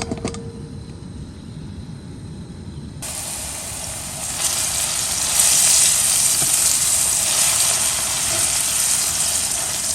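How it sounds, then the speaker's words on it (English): Garlic sautéing in olive oil in a pan, a steady close sizzle and hiss that swells louder partway through and then holds, with no talking. "garlic, and olive oil in the pan. We're going to go ahead and saute those up"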